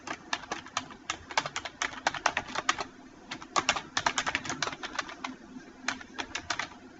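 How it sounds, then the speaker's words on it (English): Typing on a computer keyboard, close and clear, with quick runs of sharp key clicks broken by short pauses, while a faint steady hum sits in the background. "At the location of the cursor, type your name."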